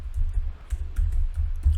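Quick bursts of keyboard typing, a few clustered key taps close by, with a low hum underneath.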